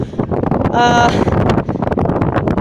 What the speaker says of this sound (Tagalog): lasap na lasap mo yung lakas ng hampas ng hangin